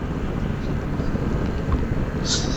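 Motorcycle ridden along the Marilaque highway, its engine a steady close low rumble with wind noise throughout, mixed with a faint voice.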